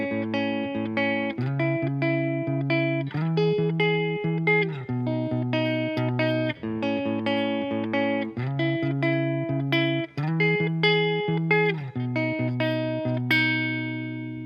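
Guitar fingerpicks the repeating pattern of a song, clean plucked notes in a steady rhythm cycling through chord changes, clear and alone for the whole stretch.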